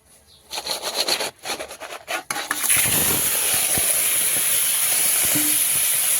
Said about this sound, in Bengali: কাঁকড়ায় কড়াইতে তেল দিয়ে দিয়েছি কাঁকড়াগুলো এবার দিয়ে দেবো